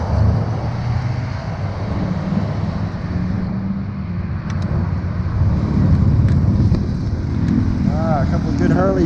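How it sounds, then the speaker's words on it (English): A couple of Harley-Davidson motorcycles rumble along a Colorado mountain highway, a low throaty engine drone that swells louder toward the end amid general traffic noise and wind, with no clear talk. "A couple of good Harleys running around there."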